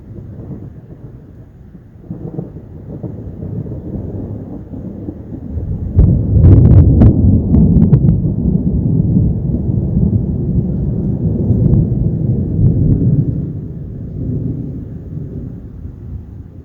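Thunder from an approaching thunderstorm rumbles low and long outside a workshop, swelling into a loud rolling peak with a few sharp cracks midway before fading back to a distant grumble.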